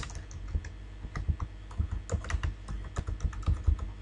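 Typing on a computer keyboard while filling in a document: a quick, irregular run of close, crisp key clicks with short pauses between bursts, no voices.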